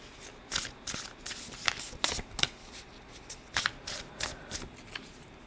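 A tarot deck is shuffled repeatedly, each riffle a quick crisp flutter, soft and close.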